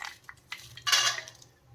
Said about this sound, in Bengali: এখন এই যে এই বাদাম কটা দিয়ে দিচ্ছি এর মধ্যে।